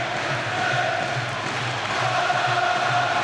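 A boxing arena crowd cheers and roars in a steady, distant swell during the Ricky Hatton vs Vyacheslav Senchenko fight, with a faint commentator voice underneath.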